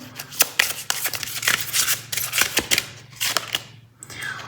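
Tarot cards are shuffled and drawn close up. A rapid stream of crisp riffling flicks and slaps runs almost without a break, over a faint steady hum in the background.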